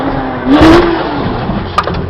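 Honda Rubicon 520 ATV engine revving during a power shift, a short rising and falling engine note with a brief surge in the middle, close and loud, with no talk.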